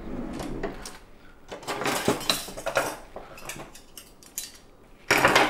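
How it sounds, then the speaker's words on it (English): Egg yolks are whisked in a bowl with a small whisk, making a close run of rapid metallic clinks and scrapes against the bowl in irregular bursts, ending in a louder rattling flurry. "So egg yolks whisking together"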